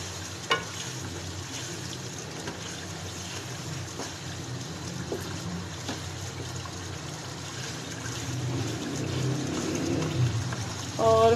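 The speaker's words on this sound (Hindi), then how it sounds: "इसको 2 से 3 मिनट भून लेंगे।" Masala with salt and turmeric fries in a pan, a continuous low sizzle with light stirring and scraping that grows slightly louder toward the end, no voices.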